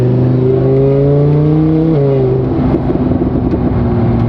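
A straight-piped Lamborghini engine revs loudly and close by, a deep rasping exhaust note rising in pitch, dropping, then rumbling unevenly at idle.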